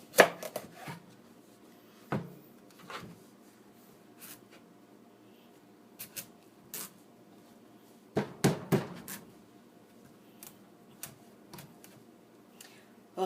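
A knife cuts through a butternut squash, giving sharp, irregular thuds and cracks that arrive in short clusters with quiet gaps between them.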